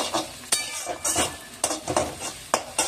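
Garlic paste is stirred in a pan, with a soft sizzle under repeated spoon scrapes and knocks that come in an uneven rhythm, several sharp clinks standing out close by.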